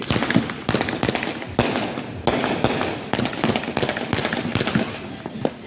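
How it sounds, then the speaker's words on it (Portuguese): Fireworks and firecrackers set off for the Fourth of July in the United States, rapid loud bangs and crackling bursts in quick succession at close range. "Em cada casa as pessoas soltam vários fogos."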